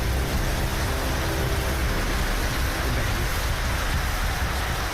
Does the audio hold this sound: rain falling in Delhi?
yes